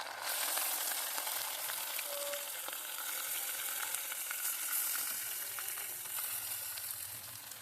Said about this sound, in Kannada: ಇವಾಗ ಬದನೆಕಾಯಿ ಎಲ್ಲ ಹಾಕೋತಾ ಇದ್ದೀನಿ